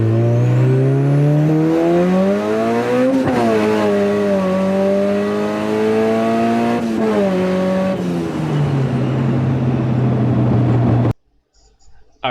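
Turbocharged 300 hp Integra GSR pulling hard, engine note climbing steadily through gears with a brief shift dip, loud and close, then cutting off abruptly near the end.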